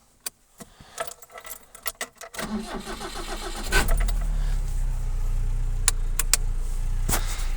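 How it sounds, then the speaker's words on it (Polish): Keys jingle faintly, then the 1.6-litre engine of a 1997 FSO Polonez Caro Plus cranks and catches, settling into a steady low idle nearby. "Może uruchomimy go, zobaczymy jak on pracuje."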